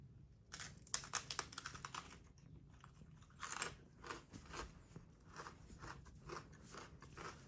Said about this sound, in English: It is a very crispy cookie